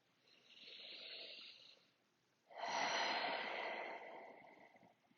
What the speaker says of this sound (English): take a bigger breath